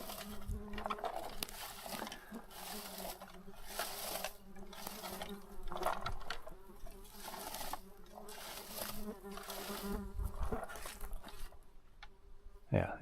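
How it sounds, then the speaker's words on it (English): Ordinary flies buzz outdoors among bilberry plants, their faint whining drones rising and fading in repeated passes close to the ground over about thirteen seconds. "it's only like the normal flies. You can hear the buzzing."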